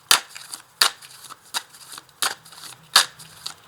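Tarot cards shuffled by hand, with sharp riffling bursts repeating about every half second to second, close and crisp against a quiet background.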